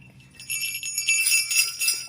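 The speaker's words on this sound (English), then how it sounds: "Where's my bell?" A hand bell rings in a few bright, tinkling bursts that grow louder after a brief quiet start, close and clear with no talking.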